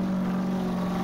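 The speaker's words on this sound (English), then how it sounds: "the engine noise is a little on the loud side" Loud, steady engine drone of the Gravedigger monster truck mod in Farming Simulator 19, a continuous low hum with a strong tonal band, heard alone without talk.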